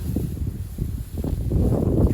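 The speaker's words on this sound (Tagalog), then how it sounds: "Lakas ng hangin no?" Strong wind buffets and rumbles across the microphone in gusty low roaring bursts, with no talking.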